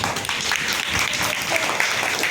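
Children clap together in a classroom during a lesson on 3D shapes, a dense, continuous patter of many small hands at fairly close range with no pauses.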